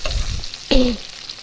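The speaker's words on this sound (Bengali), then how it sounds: "মাথাগুলো আগে ভেজে নিছি এবার লাল করে মুসমুসো করে ভাজছি একবারে" Fish heads frying in oil in a pan, a close, loud sizzle with a brief sharp scrape or stir in the middle, then steady frying noise.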